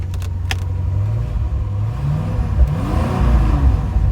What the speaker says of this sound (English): Has a nice deep exhaust sound.